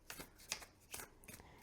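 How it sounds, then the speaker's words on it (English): A tarot deck with a matte finish is shuffled overhand, giving a series of soft, papery card riffs and slaps in quick bursts about every few tenths of a second, close and quiet. "All right, overhand shuffle."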